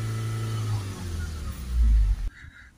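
A van's diesel engine, held in restricted revs by a particulate filter fault and unable to pass 3000 rpm, revs up loud and close, rises to a heavy peak, then drops abruptly as the throttle is released.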